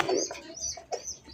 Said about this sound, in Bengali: এই দেখেন এটা হচ্ছে কিন্তু কালারিং কবুতর